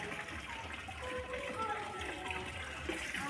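A tap runs in a steady, continuous stream, filling and splashing water close by, with a voice talking over it throughout.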